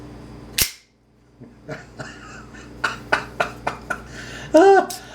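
A Microtech Halo V automatic knife blade snaps open with a sharp metallic ring, then a run of quick clicks and clacks, with a voice reacting briefly near the end.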